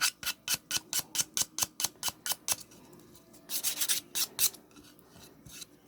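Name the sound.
emery board filing and smoothing decoupage block edging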